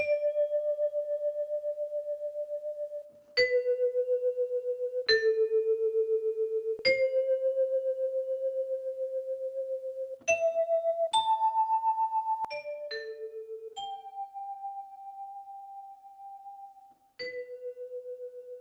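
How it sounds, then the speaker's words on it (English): High, bright synth bell notes played one after another, each sustaining evenly before the next, forming a slow melodic line with no voices. "Moving on to this bell sound, I like to use it at a higher octave"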